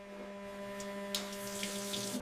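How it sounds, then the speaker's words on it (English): A cutting board is rinsed under a running tap at home, steady water flow with a low hum beneath and a few splashy bursts as the stream hits the board. "the cutting board is rinsed"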